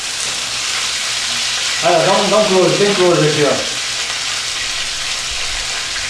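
Beef fillet for Beef Wellington sears in a hot pan, a steady close sizzle and frying crackle throughout while someone speaks briefly over it in Portuguese.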